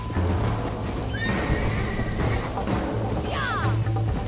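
Horse in the Red Dead Redemption video game neighs twice, loud and close, over steady galloping hoofbeats, with the clatter of a wagon or carriage running underneath.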